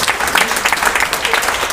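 An audience at a gathering claps in a brief, dense burst of applause, steady and fairly loud throughout with no pause.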